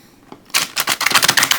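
A tarot card deck is shuffled by hand in a rapid, close riffle of crisp papery flicks, about a dozen in quick rhythm after a brief quiet start.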